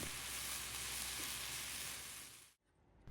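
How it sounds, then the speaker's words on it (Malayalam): Okra stir fry sautéing in a pan over a low flame gives a steady, close sizzle with faint crackle for most of the clip, then cuts off abruptly near the end. "ഒരു ലോ ഫ്ലെയിമിൽ വെച്ചിട്ട് അഞ്ച് മിനിറ്റ് നമുക്കിതുപോലെ വഴറ്റിയെടുക്കാം"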